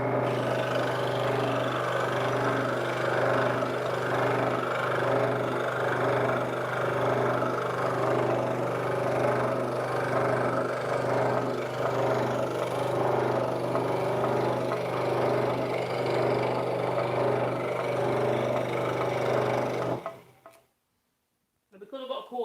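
A scroll saw fitted with a coarse blade cuts quickly through wood for a name plaque, giving a steady, loud motor hum with a buzzing reciprocating rasp for about twenty seconds before stopping abruptly, followed by brief clatter.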